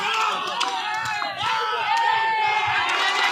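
Spectators at a quarter-final cricket match clap and cheer, a lively crowd roar with sharp individual shouts and scattered claps rising and falling over a few seconds.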